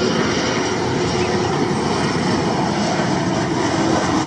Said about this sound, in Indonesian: ini pesawat teman